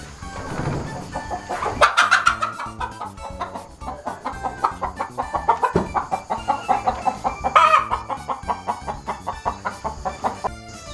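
Several chickens cluck in a hen house nearby, giving a steady run of rhythmic clucks with occasional louder squawks.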